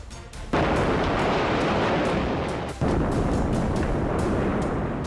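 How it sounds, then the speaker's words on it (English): A loud, sustained roaring blast from a house explosion fills the air, dropping briefly before a second heavy rumble surges back, harsh and continuous. "A thunderous explosion shatters the stillness."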